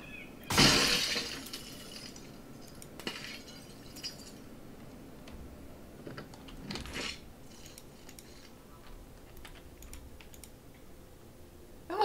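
A window or glass smashed open in the survival video game Project Zomboid: one loud shattering crash at the start, then scattered smaller clatters and keyboard clicks with no talking.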